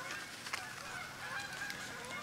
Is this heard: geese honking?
yes